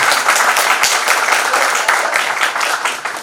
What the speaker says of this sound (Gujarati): એકવાર એમના માટે તાળીઓ થઈ જાય